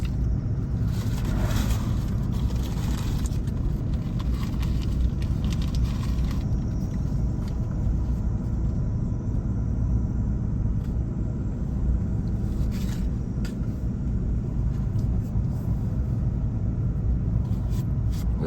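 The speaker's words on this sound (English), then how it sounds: "This is a nice slow drive here for you. Not taking these curves too fast." A car driving slowly along winding back country roads around Sevierville and Seymour, Tennessee, making a steady low rumble of engine and tire noise from inside the cabin with faint clicks and knocks. Nobody speaks.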